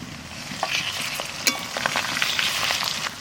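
Mutton fat sizzles and crackles in a hot pan, a close continuous frying hiss broken by sharp pops and stirring scrapes, with no talking.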